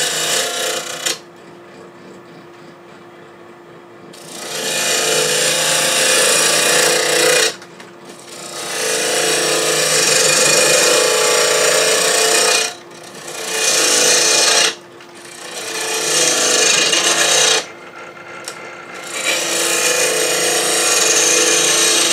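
Cherry burl being hollowed on a wood lathe with a 5/8 inch spindle gouge: loud, sustained rasping cuts in several long passes, broken by short pauses as the tool lifts away, with no talking.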